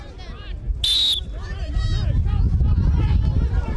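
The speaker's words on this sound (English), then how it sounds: "Resume on my whistle." A referee's whistle at a quadball match gives one sharp, loud blast to restart play, over crowd babble and players' voices, with the chatter and movement growing busier afterward.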